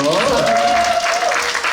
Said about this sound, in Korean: 앞으로 힘내라 박수 한번 주세요